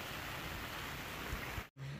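Steady rain falling along a river in Isabela, a dense broadband hiss that stays even and close throughout, briefly cutting out near the end before resuming, with no voices.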